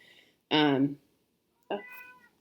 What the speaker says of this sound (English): There's a cat that's going to jump on the table here in a second.